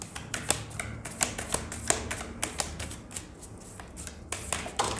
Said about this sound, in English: Just shuffle again.